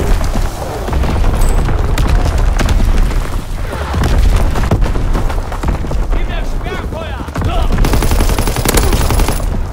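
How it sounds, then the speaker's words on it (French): Enemy artillery fire in Call of Duty: WWII, a dense barrage of heavy booms and rapid gunfire rolling continuously, loud and close, with a voice heard over the battle. "Tir d'artillerie ennemi, mettez-vous à couvert."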